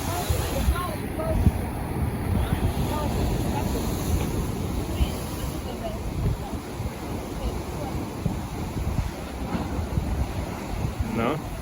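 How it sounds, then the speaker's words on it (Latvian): Sea waves surging against rocky cliffs on the coast at Rabat, Morocco, a steady broad roar of surf with wind buffeting the microphone throughout. "Tie viļņi triecas uz priekšu, apakaļ,"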